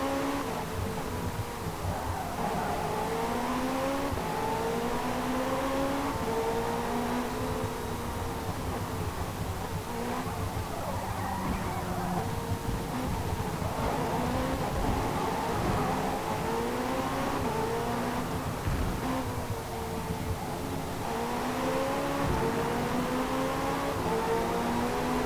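A Pagani race car engine in Forza Motorsport 5, droning steadily and fairly close, its pitch sweeping up and down through repeated gear changes with no voices over it.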